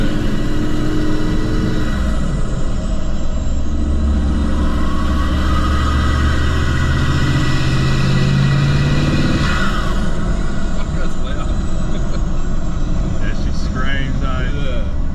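A Toyota Land Cruiser 79 Series engine revs and drones loudly and continuously while driving, a heavy low rumble with rising pitch through the gears as people talk over it inside the cabin.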